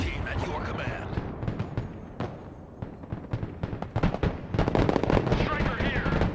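Artillery and gunfire in the real-time strategy video game Broken Arrow, rapid loud crackling bursts and booms coming in dense clusters that build toward the end.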